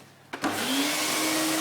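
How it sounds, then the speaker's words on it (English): A vacuum cleaner switches on with a sharp click and rises into a loud, steady close-up roar with a rising whine while a dog is being vacuumed. "Okay, back to the vacuum."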